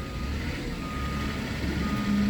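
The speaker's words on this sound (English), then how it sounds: "Wait till this guy finishes backing up so his beep, beep, beep thing will shut off." A truck backing up sounds its reversing beeper outdoors, steady tones heard over loud rumbling engine and road noise, with the beeping growing a bit stronger toward the end.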